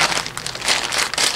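Crinkly plastic mailer from Russian Post being handled and torn open, a steady close rustling and crackling with bright bursts throughout and no talk.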